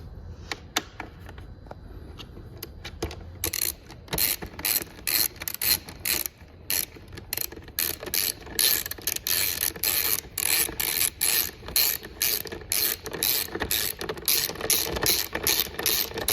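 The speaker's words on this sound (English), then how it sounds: "Next thing we're gonna do is reinstall these 6 bolts here." Taillight bolts are driven back into a 2019+ Kawasaki Ninja ZX-6R with a ratcheting tool, loud rapid clicking bursts repeating in quick runs after a quieter start.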